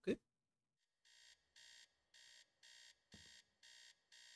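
An alarm blares in the video game Teardown, sounding as seven evenly spaced electronic buzzing pulses after a brief thump at the start, loud and repetitive with one low knock partway through.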